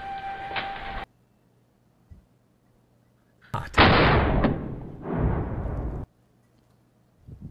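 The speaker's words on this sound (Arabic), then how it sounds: "طلقة قوية، طلقة قوية." A hunting rifle fires at a hippopotamus: one loud, sharp blast with a rumbling tail, then a second heavy burst, set against near silence.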